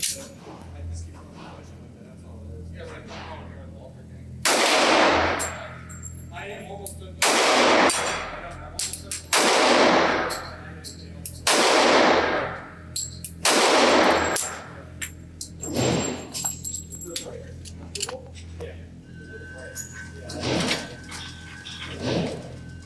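Five sharp gunshots from a Springfield Armory XDs 3.3 compact .45 ACP pistol at a shooting range, loud and close, fired one at a time with short irregular gaps, the reports echoing briefly before fading.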